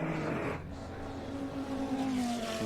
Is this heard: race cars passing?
yes